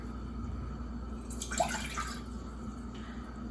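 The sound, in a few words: water poured into a pan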